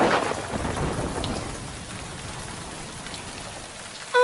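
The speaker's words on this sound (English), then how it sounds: "Oh, no! It's starting to rain!" Rain falls steadily in a thunderstorm, its constant hiss joined at the start by a deep rumble of thunder that fades, with no talking.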